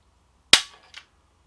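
A Stoeger Condor Compact 20 gauge shotgun fires a single sharp, loud blast from the underbarrel, followed by a short decaying echo and a faint click.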